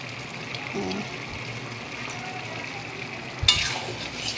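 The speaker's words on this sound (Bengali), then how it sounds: "এবার আমি একটুখানি যে মশলাটা করে রেখেছিলাম সেটা আমি দিয়ে দেব" Prepared masala paste frying in a pan with chicken, a continuous sizzle and light stirring scrapes, then a sharp loud burst of spitting oil near the end.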